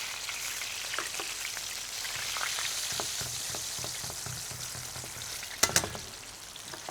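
Tofu frying in a pan for crispy tofu, a steady crackling sizzle with fine popping throughout, then a couple of sharp clinks near the end.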